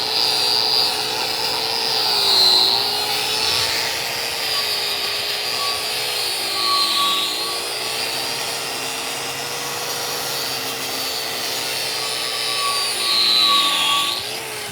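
A power wire wheel whirs steadily against a weld, cleaning slag between passes on a 6010/7018 pipe test joint in the 6G position, a loud continuous grinding hum that swells and dips slightly as pressure shifts.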